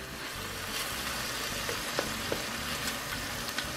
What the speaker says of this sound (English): some spring onion, just the white part of the spring onion that we're gonna fry up next. Just gonna get them fried up a little bit